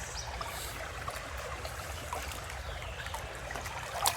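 Creek water flows in a low, steady rush and trickle at a gold dredging site, soft and continuous with no voices.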